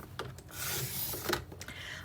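A paper photo mat being cut to width in a trimmer: a short, close rasping swipe of the blade through the paper, lasting about two seconds.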